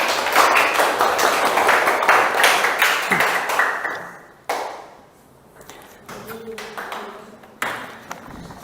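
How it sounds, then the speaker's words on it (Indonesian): Classroom group of students claps enthusiastically for several seconds, a dense burst of close hand claps that tapers off around the four-second mark, followed by scattered light claps and taps. "Tepuk tangan yang meriah untuk kalian semua."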